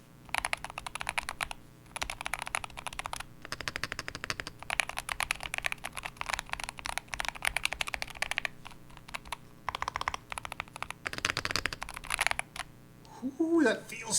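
Fast, steady typing on a Keychron K2 HE mechanical keyboard, with dense clacky keystrokes running almost continuously and a few brief pauses between bursts.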